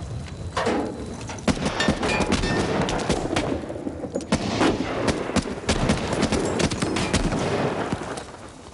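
Gunfire from the war film Saving Private Ryan: dense, loud volleys of rifle and machine-gun shots crack nonstop close by, layered over rumbling battle noise, with no clear voices.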